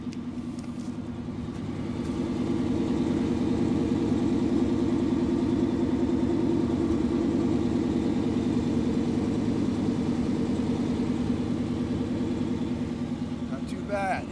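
A 1988 Chevy truck with a MagnaFlow performance exhaust idles at a salvage yard, a steady close rumble with a slight swell partway through, while people talk nearby.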